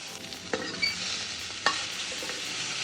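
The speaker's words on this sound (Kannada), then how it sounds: "ಸೊ ನಾನು ನೆಕ್ಸ್ಟು ಪನ್ನೀರು ಆ್ಯಡ್ ಮಾಡಿದ್ದೀನಿ. ನೀಟಾಗಿ ಫ್ರೈ ಆಗಬೇಕು, ಗೋಲ್ಡನ್ ಬ್ರೌನ್." Paneer cubes fry in a pan until golden brown, a soft steady sizzle with a few sharp clinks and scrapes of a spoon stirring against the pan.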